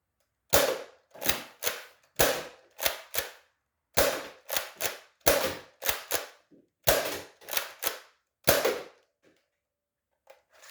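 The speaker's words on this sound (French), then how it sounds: "quand on a tiré les deux premiers coups, il faut appuyer là pour que ça débloque le chargeur. Pour enchaîner les 6 autres coups." X-Shot Meteor toy dart blaster firing repeatedly, sharp close snapping shots in quick pairs and triplets with short gaps between bursts, alone in a quiet room.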